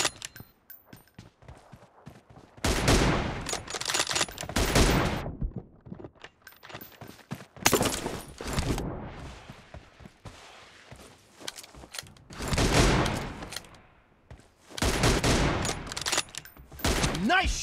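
PUBG Mobile team deathmatch with bursts of rapid gunfire separated by quiet gaps, several loud volleys close by, with faint voices in between.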